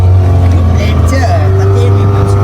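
A motorboat on a ride in Mumbai, its engine giving a steady loud low drone throughout with water noise and a faint voice underneath.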